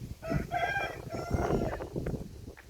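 Chickens clucking inside a goat shed, short fowl calls repeating close by with a crowing-like note over steady barnyard rustle, no talk.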